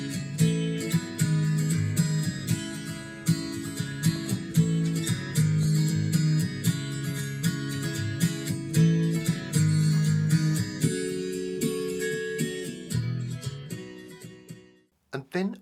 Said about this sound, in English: One is it's a very good start when you find a really nice acoustic guitar riff that kind of gets you going.